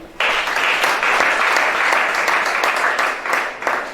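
Applause from a church congregation during a sermon by a Gabonese prophet, a dense, steady wash of many hands clapping at close range that starts abruptly and keeps going for several seconds.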